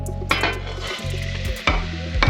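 Chopped carrot, onion and red and green peppers hit hot oil in a pan and are stirred, a close sizzling hiss broken by sharp clatters of a utensil against the pan, with low hum underneath.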